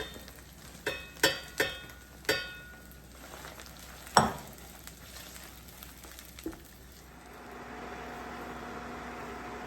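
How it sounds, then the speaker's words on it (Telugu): Prawns frying in a pan for a gongura prawn pickle, a few sharp clanks and scrapes of stirring at the start, then a soft, even sizzle that settles in, fairly quiet and close. "రొయ్యలు ఎగిపోయినాయండి. మరీ ఎక్కువ వేపుకోవద్దు, ఎర్రగా వేగితే గట్టిగా అయిపోతాయి."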